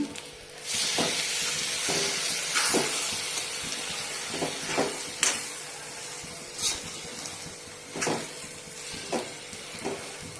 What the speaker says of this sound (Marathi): आता हे स्मॅश केलेले वांगी त्याच्यात टाकून घेऊया कुस करून घेतलेली वांगी